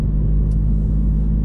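Fiat Abarth 695 Tributo Ferrari being driven on the road, heard as a steady, loud low engine drone and road rumble with no variation and no voices.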